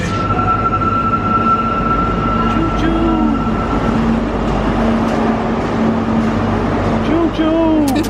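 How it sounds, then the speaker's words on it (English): Steady low rumble and rattle of a moving passenger train in Bath, with faint wheel squeals near the end; people talk over the continuous ride noise. "We're on the train."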